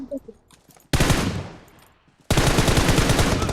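Loud automatic gunfire from the PUBG Mobile video game comes in two sustained rapid bursts after a brief quieter start, each burst dense and close.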